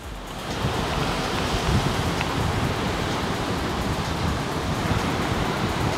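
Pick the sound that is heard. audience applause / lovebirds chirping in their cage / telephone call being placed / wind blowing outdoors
wind blowing outdoors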